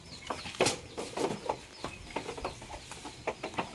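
Chickens at nesting boxes on a rural farm give soft, intermittent clucks, several short calls scattered close by against quiet surroundings.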